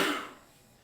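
A single short, faint sneeze bursts out and fades quickly in a quiet room.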